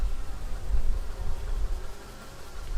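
Honeybees hum steadily inside a full hive crowded with brood, a dense, continuous low drone that fills the space close by with no voices over it.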